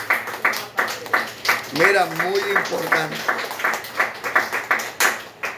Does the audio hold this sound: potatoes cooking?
no